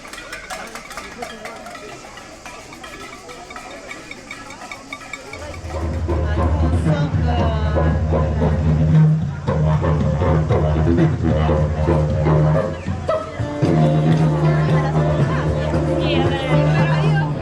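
Crowds of tourists fill a street in Avignon, France, with a dense babble of many voices close by, growing louder and fuller partway through, along with some musical tones.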